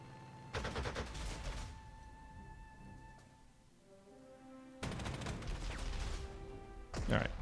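Aircraft strafing runs in the World War II strategy game Panzer Corps 2: two long bursts of rapid gunfire with a lingering tonal hum between them, ending in a short sharp crash.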